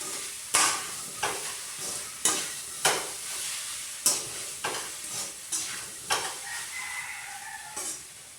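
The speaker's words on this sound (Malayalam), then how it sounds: "വറവിലേക്ക് കായ ഇട്ടിട്ട് നല്ലോണം ഒന്ന് ഇളക്കി കൊടുക്കുക" Raw plantain being stir-fried in coconut oil with mustard seeds and curry leaves, giving a steady close sizzle broken by repeated sharp scrapes of a spoon at a regular rhythm, with no talk.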